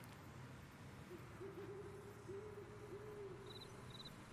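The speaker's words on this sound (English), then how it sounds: "Got owls. Okay, these crickets sound good now." Soft, low owl hoots repeat a few times over a steady chorus of chirping crickets, with faint high chirps near the end, in the video game Resident Evil Requiem.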